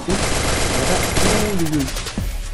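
Shotgun fire in a video game PvP match crackles in a dense, loud burst of overlapping shots that continues steadily, with faint background game sounds and no clear talking.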